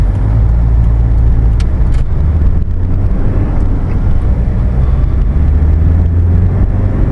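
A Toyota Land Cruiser LJ78 turbo diesel 4x4 driving uphill: a loud, steady, low engine drone with road and wind noise, unbroken throughout.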